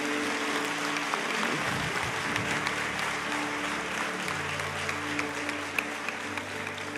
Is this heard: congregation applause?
yes